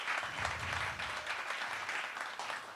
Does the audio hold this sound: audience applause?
yes